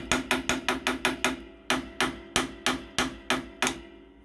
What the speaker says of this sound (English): Now this is just a quick hammering to roughly get my square shape.